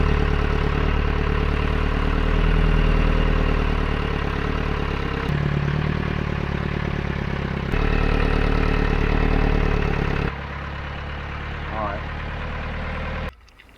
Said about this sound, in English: So the revs are going up and down by themselves.